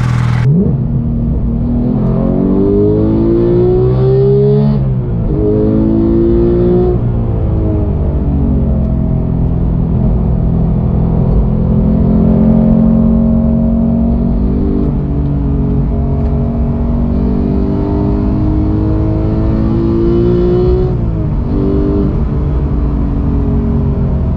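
The flat-six of a Porsche 991.2 GT3 revs hard toward 9000 rpm, loud and close, its pitch climbing and dropping through repeated sweeps as the car accelerates and shifts, with no one talking.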